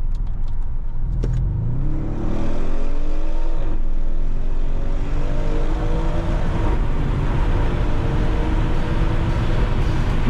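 A 2016 Audi RS6 C7 Performance with 605 hp accelerates hard with its rear windows open. Loud engine tones climb steeply, dip briefly at a gear change, then climb again under heavy wind and road roar.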